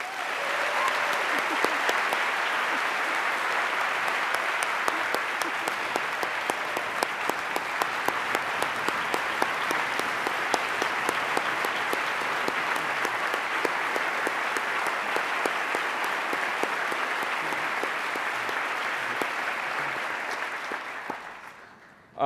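A large conference audience at the Skoll World Forum 2011 gives sustained, dense applause for Archbishop Desmond Tutu. The clapping holds loud and steady for about twenty seconds before dropping away at the end.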